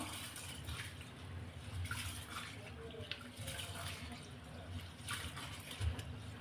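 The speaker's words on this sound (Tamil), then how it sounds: "இப்போ தண்ணி சேர்த்து இதை நல்லா அழுத்தி பிடிச்சு நல்லா ஒரு ரெண்டு மூணு தடவை நல்லா கழுவி எடுத்துகிட்டு வந்துடலாம்" Continuous swishing and sloshing of water as rice and urad dal are rubbed and rinsed in a bowl for appam batter, steady and close, with faint speech underneath.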